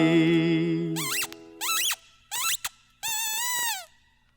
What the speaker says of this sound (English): Freddie Bear, my teddy bear, can squeak